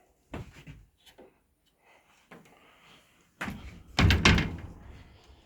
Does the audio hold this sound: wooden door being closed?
yes